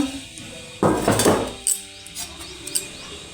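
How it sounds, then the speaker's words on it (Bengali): A metal lid is lifted off a home cooking pot of lunch dishes like lentil dal, giving a short clattering scrape followed by a few faint light clinks in a quiet kitchen. "এই তো ঢাকাটা খুললাম"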